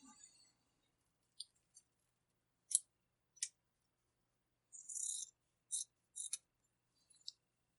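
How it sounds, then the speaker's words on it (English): Poor-quality scissors cutting through deco mesh for a Halloween wreath give a handful of sharp, crisp snips and crunches, scattered irregularly between silent gaps, close and fairly quiet, with no voices. "Using the worst scissors possible to do this"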